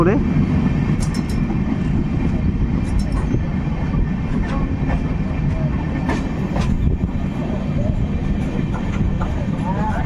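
An Amrit Bharat Express train runs past Murarai station on the Rampurhat–Murarai section, where sleeper and point work is under way. A loud, steady rolling rumble carries on for the whole stretch, with faint higher clicks and squeaks on top.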